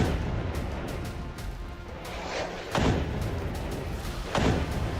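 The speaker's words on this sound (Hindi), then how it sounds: "पहला रॉकेट इंटरसेप्ट, लेकिन दूसरे रॉकेट ने धमाका कर दिया।" Two deep, booming rocket explosions land a couple of seconds apart over a steady rumbling background, each one a heavy thud that rolls out in the distance.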